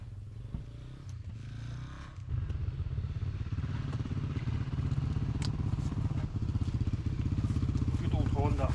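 Honda trail motorcycle engine idling close by, a steady low chugging throb that grows louder after a couple of seconds, with talk and some clattering over it.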